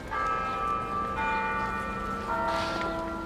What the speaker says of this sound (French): Vous avez entendu les cloches sonner?